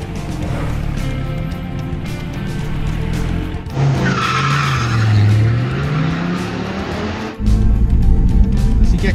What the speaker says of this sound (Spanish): Aquí manejando el nuevo Viper GT SRT, un auto obviamente con gran potencia.